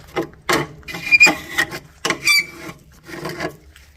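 Close, rhythmic scraping strokes pull oil off a freshly cut slab of green rock, several rasping passes with brief squeaks between them.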